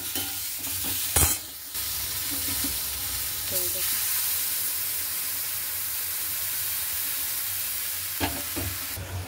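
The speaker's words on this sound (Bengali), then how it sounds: "চাটনিটা বসিয়ে দিয়েছি, ভাজা ভাজা হয়ে গেলে জল দিয়ে দেবো।" Mango chutney frying in a pan, a steady sizzle and hiss with a few sharp stirring clatters of a utensil against the pan, close by; a voice speaks briefly near the start.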